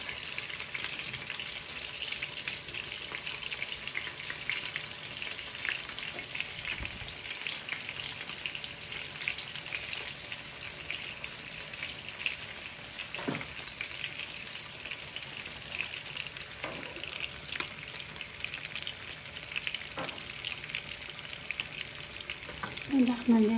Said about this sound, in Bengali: কই মাছটা আমি খাড়ির মধ্যে ডাইলা দিলাম আর কই মাছ ফ্রাই করে অনেক মজা হয়